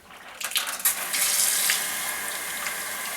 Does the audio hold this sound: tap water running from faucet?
yes